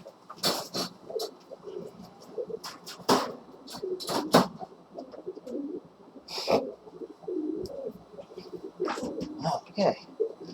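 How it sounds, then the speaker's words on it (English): Pet pigeons or doves coo and squabble indoors, with scattered wing flutters and sharp bursts of scuffling between softer, low cooing calls, fairly close and irregular over a quiet room. "Honestly, sometimes having birds is like having kids. Squabble like crazy."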